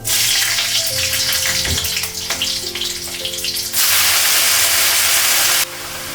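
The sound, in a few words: oil and green chillies sizzling in pan for greens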